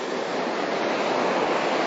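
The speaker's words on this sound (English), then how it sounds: "Over 2 centuries of Colin's children must have splashed in these waves" Ocean surf on a shore, a steady broadband wash of breaking waves with no distinct crashes, continuous and fairly close with no voices.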